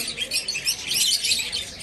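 Lovebirds in a shop fill the air with dense, continuous high-pitched chirping and twittering, several birds overlapping close by with no pauses.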